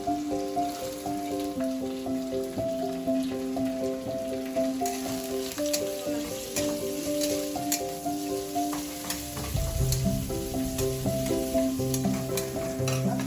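Cabbage stir-fried for street-style veg chowmein in a pan with ginger-garlic paste, giving a steady loud sizzle with frequent scraping stirs over continuous background music, growing busier near the end.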